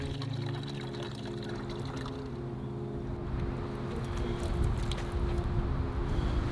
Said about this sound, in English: there was a park along the trail that had a water spout